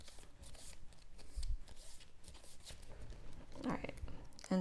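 A deck of cards shuffled during a tabletop board game of First in Flight, a soft continuous riffling rustle at close range, with a few sharper snaps near the end and people talking nearby.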